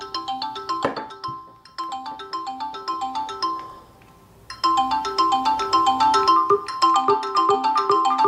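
Polyphonic electronic ringtone playing as a voice call test on an HDC Galaxy S5 clone phone with an MTK6582 chip, a bright looping melody with a brief pause midway, then resuming louder with no talking.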